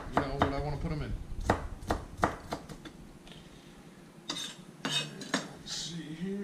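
Knife chopping onions on a cutting board for a red cabbage salad, a series of sharp, close taps in uneven bursts with short pauses between.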